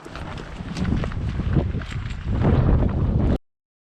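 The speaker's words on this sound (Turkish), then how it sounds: "Hava biraz rüzgarlı." Gusty wind buffets the microphone with low rumbling blasts, strengthening toward the end before cutting off abruptly.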